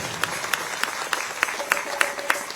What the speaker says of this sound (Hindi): इसलिए एक बार माता बहनों के लिए भी ताली बजा दीजिए